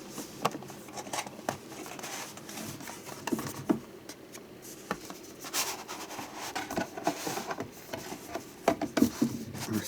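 Cardboard packaging rubbing and scraping as an Amazon Fire HDX 7-inch tablet box is slid out, soft close rustles and taps in irregular bursts.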